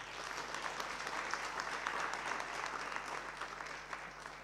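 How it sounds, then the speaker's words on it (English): Applause from a conference audience after a panel of speakers, a sustained even clatter of many hands that fills the room for several seconds. "let's give a round of applause to our speakers"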